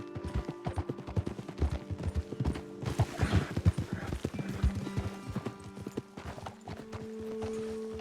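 Horses' hooves clip-clop in Red Dead Redemption 2, a brisk irregular patter of hoofbeats on a trail that eases off partway through, over a low ambient hum with a faint snort.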